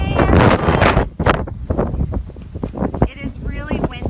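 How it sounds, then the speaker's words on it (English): Gusty wind blows outdoors at a housing estate, roaring against the microphone in loud bursts while a person talks over it. "It is really windy out here,"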